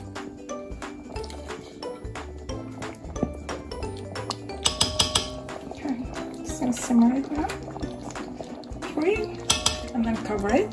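A spoon stirring chicken curry stew in a metal pot clinks and scrapes repeatedly against the sides over a wet, bubbling background, with a voice talking intermittently.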